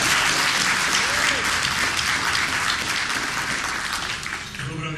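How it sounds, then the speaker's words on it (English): Steady applause from a gala audience in Toronto, honoring the MC. It is loud and dense for the full length, easing slightly toward the end. "How about a round of applause for our great MC this evening?"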